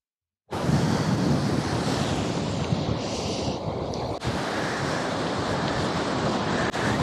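Ocean surf rolls onto a beach at Wylie Bay near Esperance in Western Australia, a steady loud wash of breaking waves mixed with gusty wind buffeting the microphone, continuous and close with no talking.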